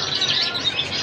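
A young finch chick that has just left the nest chirps with rapid, high, busy calls that run continuously and fairly close through the whole short stretch.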